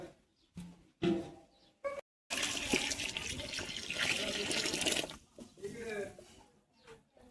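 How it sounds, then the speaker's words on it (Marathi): Hot water is poured into goat mutton cooking over a wood-fired stove, giving a few seconds of steady splashing pour with voices talking around it. "गरम झालेलं पाणी आता आपल्याला त्या मटणामध्ये टाकायचं आहे"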